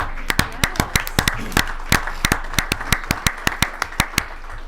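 A school board meeting audience claps in sparse, slightly uneven rhythm, sharp individual hand claps close and fairly loud, a small group rather than full applause.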